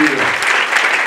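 Dense, sustained clapping from a wedding congregation in a church fills the moment, while a voice speaks briefly underneath near the start.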